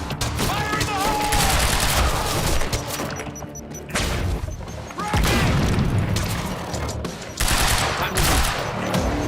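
Gunfire and a grenade blast in the shooter game Quantum Break: dense, loud bursts of automatic fire with booming impacts that come in waves, briefly drop back near the middle, then surge again.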